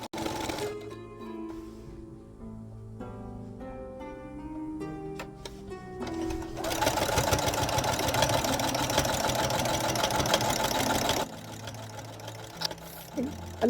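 A sewing machine fitted with a walking foot quilts a small mug rug, starting with slower stitching and then a loud, steady whirring run of rapid stitches before it stops and restarts briefly.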